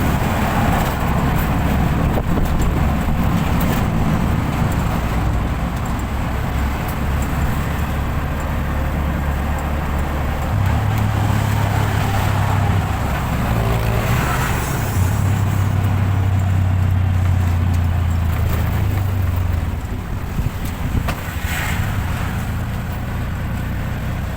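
Road traffic heard from inside a moving vehicle in hot weather in the Philippines: a steady engine and road rumble with brief low hums from passing vehicles, continuous and moderately loud, with no talking.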